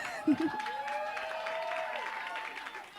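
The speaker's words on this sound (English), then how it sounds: "please put your hands together" Audience applause at a Miss Soweto finalists event in Johannesburg: a steady wash of clapping runs through the whole clip, with a brief louder burst near the start and a sustained tone or voice over it.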